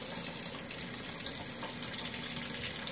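A kitchen tap runs hot water at full flow, giving a steady, dense hiss and splash into a sink or container, close and unbroken throughout.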